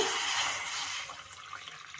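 Water is poured into a pan holding tamarind for chutney, a brief splashing rush that fades into lighter trickling and drips, with no voices.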